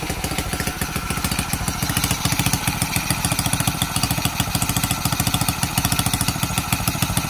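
A Honda XRM 110cc motorcycle engine idles steadily just after starting, its rapid even putter close and loud throughout with no talking.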